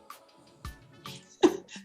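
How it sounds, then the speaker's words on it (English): A single abrupt sneeze bursts out near the end during an online committee meeting, preceded by a few faint clicks and small mouth noises in an otherwise quiet room. "I was totally sneezing"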